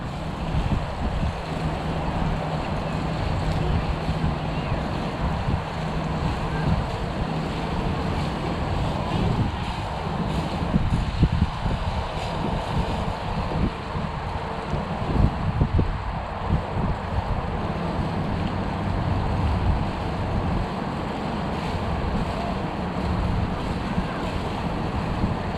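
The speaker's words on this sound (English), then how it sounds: "Yep, there's wind blowing it hard." Strong wind blows hard against a flying Zino 2 drone, making a loud, continuous roar with rough gusting buffets that rise and fall throughout, and no talking is heard.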